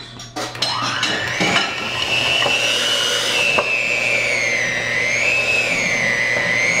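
An electric hand mixer on speed level 2 whirs steadily through mashed bananas for banana bread, its high motor whine wavering slightly in pitch as it works the mixture, with a few clinks against the bowl at the start.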